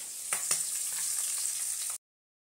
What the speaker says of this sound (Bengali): এই যে ভাজা হচ্ছে